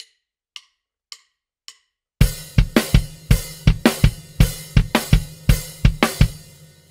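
Drum groove in a swung, triplet-feel eighth pattern: a few sparse hits, then a full kit enters with punchy kicks and snares on a lilting, uneven rhythm, loud and close with no voices.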